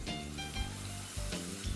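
Flour fries briefly in butter in a hot pot, giving a faint, soft sizzle with a few light clinks and stirring noises, close by and quiet, with no talking.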